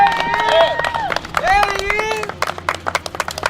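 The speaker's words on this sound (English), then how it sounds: "There's people clapping as he's walking out." People clap as a freed prisoner walks out, scattered claps rising amid emotional voices and crowd murmur, with sharper individual claps toward the end.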